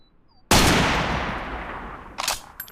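A single loud, close gunshot cracks out and rings away into a long decaying echo, followed by a couple of fainter clicks and knocks as the gun is handled.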